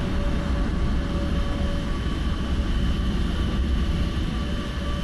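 A large airliner in Microsoft Flight Simulator gives a steady, loud, broadband engine roar with a low rumble, constant throughout and without voices.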